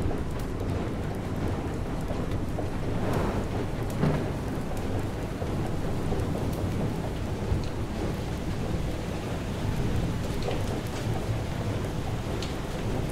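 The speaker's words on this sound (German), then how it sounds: "Da ist auf jeden Fall ein Sturm." Steady rain pours down during a storm in the video game Far: Changing Tides, with distant thunder rumbling through the continuous hiss and patter of raindrops.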